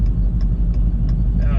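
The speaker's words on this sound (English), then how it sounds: "Yeah, traffic is crazy." Steady low engine rumble of cars on a road, a continuous traffic drone with faint periodic ticking above it.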